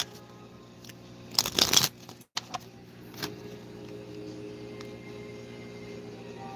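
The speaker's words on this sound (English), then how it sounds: "while I'm shuffling," A deck of playing cards is shuffled in one short riffle burst, close and crisp, followed by a softer tap and a low steady background hum.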